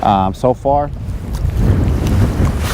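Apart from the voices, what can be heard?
strong wind at fishing pier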